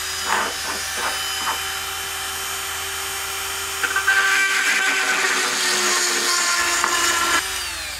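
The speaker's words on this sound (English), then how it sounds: "I could drill through this piece of steel using one of the high-speed drill bits" A mini rotary drill fitted with a high-speed bit bores into a piece of steel, its thin high-pitched whine running steadily and rising into a harsher, louder grinding midway as the bit bites, then cutting off near the end.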